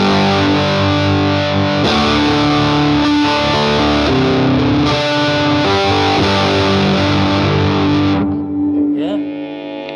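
Electric guitar played through a TWS 2864-S amp with a Tone Bone overdrive pedal on a mild overdrive setting, sustained crunchy chords ringing loud and steady before fading out near the end.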